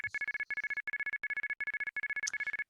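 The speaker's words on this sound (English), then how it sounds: "the 5 bursts tones of 33 on, 33 off, because those were quarters" Red box payphone coin tones signalling quarters play as rapid groups of five short, identical electronic beeps, each burst crisp and loud with brief gaps between groups.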